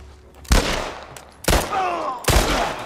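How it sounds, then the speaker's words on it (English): Three loud, sharp gunshots spaced about a second apart in The Last of Us video game, each followed by a short ringing decay, with no talking. "Oh, nice shot."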